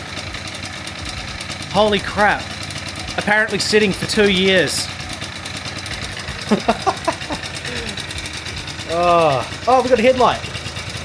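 An old scooter engine that sat unused for two years idles with a steady, smoky, oily putter throughout, under close excited talk from people nearby.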